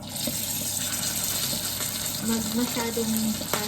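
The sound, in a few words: fish frying in oil, oil splattering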